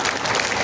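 Crowd at a political rally clapping loudly and densely, a short continuous burst of applause with no speech on top.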